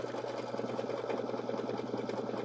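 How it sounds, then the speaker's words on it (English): An embroidery sewing machine runs a zigzag tack-down stitch to compress fur along the edges, a steady, close, rapid mechanical chatter throughout with no talking. "it's going to do a zigzag stitch to kind of compress the fur right on the edges"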